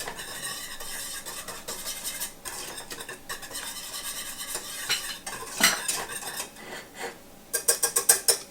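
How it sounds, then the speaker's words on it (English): Cocoa mixture is stirred in a pot with a spoon, giving a steady scraping and swishing with a few sharper clinks against the pot near the end. The stirring is close and clear, with no talking. "So I'm just going to stir this in and then wait for it to bubble up."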